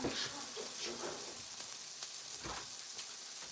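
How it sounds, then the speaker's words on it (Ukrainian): Soft, steady sizzling of fish frying in a pan, with faint crackles and light clinks throughout. "рибка смажиться"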